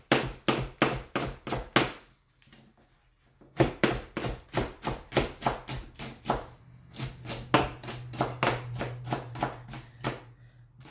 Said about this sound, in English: Now I like to cut the veggies up as fine as possible